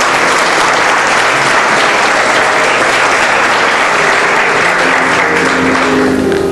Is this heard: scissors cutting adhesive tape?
no